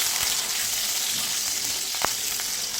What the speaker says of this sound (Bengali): বাকি যে তেলটা রয়েছে তার মধ্যে আমি দিয়ে দিলাম কেটে রাখা আলু